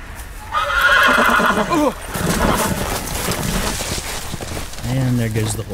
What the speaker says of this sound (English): And there goes the horse.